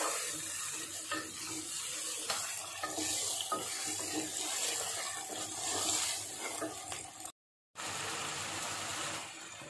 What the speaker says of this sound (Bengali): এগুলি দিয়েও আমি খুব ভালোভাবে কষিয়ে নেব।